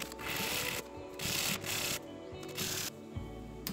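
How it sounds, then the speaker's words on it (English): Sandpaper rubs blobs off the surface of a 3D-printed robot gripper part in short, raspy hand strokes, about five back-and-forth bursts separated by brief pauses. "I'm just going to sand them out with some sandpaper"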